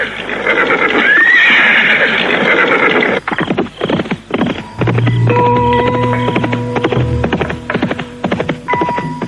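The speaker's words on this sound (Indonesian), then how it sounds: "Mereka menunggang kuda menuju ke Jawa Timur." Horses in a radio drama sound effect: a loud whinny rings out first, followed by fast galloping hoofbeats that clip-clop steadily while a rising tonal ring sounds underneath, with no voices.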